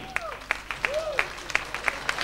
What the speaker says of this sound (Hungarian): Kérem, nagyon nagy tapsot kérek a barátomnak.